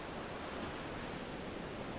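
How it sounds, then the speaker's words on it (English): A small stream spills over the edge of grassland above a beach as a little waterfall, giving a soft, steady rush of falling water with no voices. "A little stream, reaching the edge of the grassland above the beach, forms a little waterfall."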